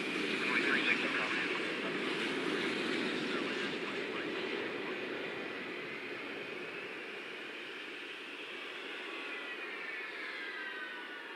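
In the Sims Airport game, a jet airliner rolls down runway 18 left for takeoff, a steady engine roar with a whining high tone that slowly rises in pitch, with a voice talking over it.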